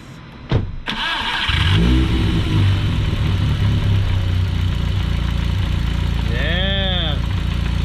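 The engine of Ian's big-turbo VW GLI cranks briefly and catches, then settles into a loud, steady idle close by, with a short rising whine near the end.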